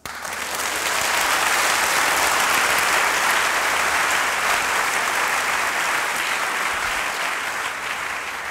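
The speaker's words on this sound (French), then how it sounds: "Applaudissez le Seigneur ce matin" Congregation applauding during a church sermon, loud continuous clapping from many people that swells quickly and holds steady, with no speech over it.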